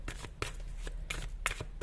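Tarot cards shuffled by hand during a personal reading, a quick run of soft riffling bursts close up, repeating at an irregular rhythm with no talk over them.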